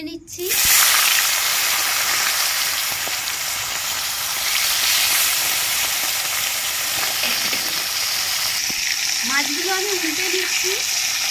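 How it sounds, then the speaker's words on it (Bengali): Fish frying in oil in a pan for a bata fish curry with bori and ridge gourd, a loud steady sizzle that runs throughout, with brief stirring and a short voice near the end. "আর একটু সামান্য তেল দিয়ে দিচ্ছি আমি মাছ ভেজে নেবো"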